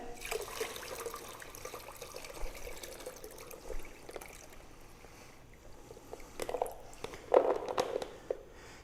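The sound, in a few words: draining water from soaked Conilon coffee cherries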